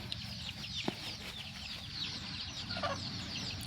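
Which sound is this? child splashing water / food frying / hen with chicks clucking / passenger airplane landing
hen with chicks clucking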